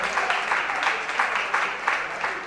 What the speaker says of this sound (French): Monsieur Juste Soupon, que je vous prie d'applaudir s'il vous plaît.